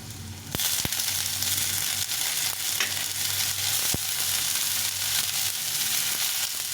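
Cabbage frying in a pan for fried rice, a loud, dense sizzle that swells in after the first half second and holds steady, with a few crisp stirring clicks and scrapes, close and without speech.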